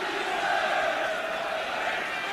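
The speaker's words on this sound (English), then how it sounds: "And the crowd really trying to lift Tottenham here." A football stadium crowd at a Tottenham versus Arsenal First Division match in 1986–87 keeps up a dense, sustained roar of cheering and chanting, with no single voice standing out.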